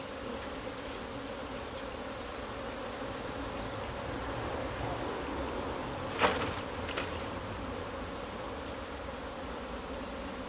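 Honey bees buzz in a dense, steady drone close by while a beehive is split with queen cells, with a brief knock or clatter of frames partway through.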